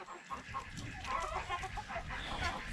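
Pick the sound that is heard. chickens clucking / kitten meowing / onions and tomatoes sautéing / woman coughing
chickens clucking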